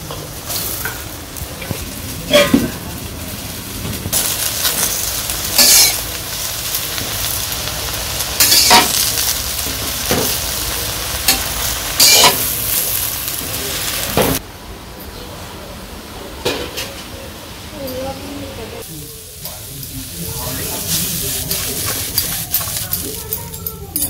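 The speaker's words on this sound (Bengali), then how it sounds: "রসুন কাঁচামরিচ ভেজে নিছি। তো এখন আবার হেঁটে থাকুন পাতাটা দিয়ে দিই।" Khorkon leaves are fried with garlic and green chilies in a pan, giving a steady close sizzle with stirring scrapes, while a person talks over the cooking.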